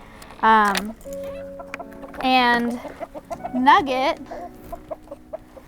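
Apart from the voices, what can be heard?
chickens clucking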